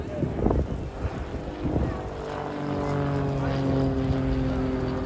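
An RAF Grob Tutor propeller aircraft flying a display at an airshow, its droning engine and propeller tone rising and holding steady at a distance, with wind noise and an announcer's voice early on.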